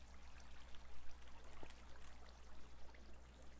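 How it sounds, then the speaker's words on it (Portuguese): Flowing water in a Minecraft SkyWars game forms a faint, continuous trickling wash with soft splashy flickers, steady and distant under a low hum, with no voices. "Tem barulho de água."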